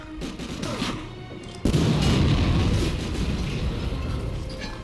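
A bazooka round slams into a tank in Medal of Honor Breakthrough, setting off a sudden loud explosion that erupts midway and rolls on as a dense, rumbling crash of battle noise.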